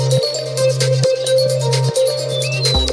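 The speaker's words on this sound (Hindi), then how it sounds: "उन्हीं का फोन आ रहा है दीदी।" A mobile phone rings loud and close with an incoming call, its tonal ringtone pattern repeating at an even pace several times before changing near the end.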